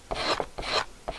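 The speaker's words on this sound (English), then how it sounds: "the next step would be to sand the edges with a sanding block" Three short rasping strokes of a sanding block rubbing along a paper edge, close up and fairly loud, with brief pauses between passes.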